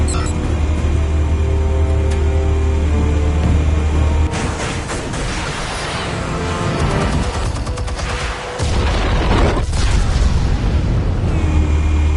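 Explosives detonating in a Batman video game on PS4, a long, loud rumbling barrage of booms and blasts layered with game score, dense and continuous throughout.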